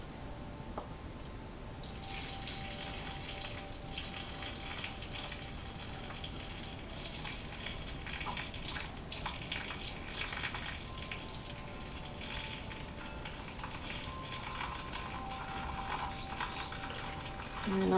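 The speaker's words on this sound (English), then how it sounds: "we're going to take our funnel and we're going to carefully pour our hot brine into our jar" Hot pickle brine is poured through a funnel into a jar as a steady, soft trickling and splashing stream, faint and continuous for a long stretch, with no speech.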